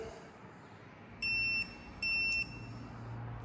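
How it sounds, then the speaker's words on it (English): Two short, bright electronic beeps in quick succession as a Velotric GoMad fat-tire cargo e-bike powers on, over a quiet room hum, close by and clear. "Nice little new annoying 2 beep sound to let you know the bike's on."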